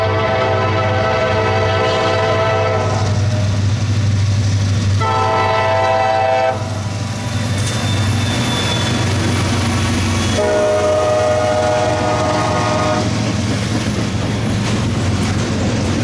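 A loud CSX freight train carrying pipe rumbles past close by, northbound in Glendale, Ohio, blowing its horn in several long blasts over the steady roar and clatter of the cars.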